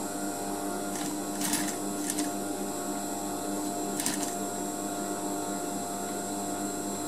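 A sewing machine hums steadily while stitching a zipper fly in a tailoring class, with a few brief sharper bursts of mechanical noise early on.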